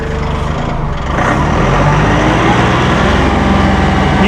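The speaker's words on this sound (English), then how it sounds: "You can hear that auto throttle kick in." The engine of a Massey Ferguson 1835M or 1840M eHydro compact tractor drones loud and close, its pitch and loudness rising after about a second as the auto throttle kicks in, then holding a steady roar.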